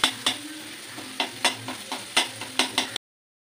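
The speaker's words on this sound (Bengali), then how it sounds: "আমি কিন্তু পেঁয়াজ দিয়ে দিচ্ছি, রসুনটা একটু ভাজা হোক" Garlic and onion sizzle in hot oil for veg chowmein, with a steady close frying hiss broken by repeated sharp scraping stirs of a spatula in the pan.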